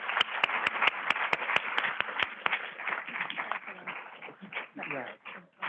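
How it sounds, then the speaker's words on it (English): Applause from a scientific plenary session audience on extreme ocean events: a few sharp, regular handclaps up front soon blend with murmuring voices and fading clapping. "let's give all of our speakers one more round of applause"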